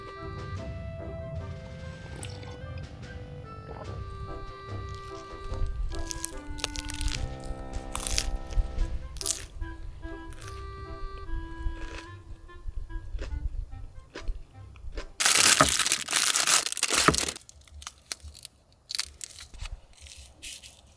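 Someone bites into and chews rock-hard bread, giving repeated loud, close crunches and cracks over faint tonal background sound, with one especially harsh burst of crunching near the end.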